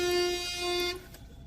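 A vehicle horn blares in a long, steady tone as a large bus pulls in on a busy Pune road, then cuts off and leaves faint traffic noise.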